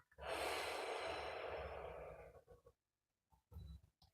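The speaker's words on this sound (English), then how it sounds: "Take a deep breath right now. Inhale, hold," A slow, deep breath drawn in with a long airy rush that gradually fades, then a quiet pause and a shorter exhale, close and soft.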